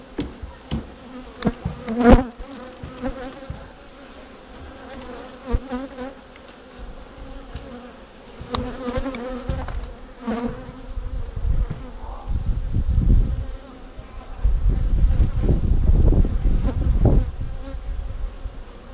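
Honeybees buzzing around an open home hive during a spring inspection, a steady insect drone with scattered close passes and knocks, swelling louder toward the end.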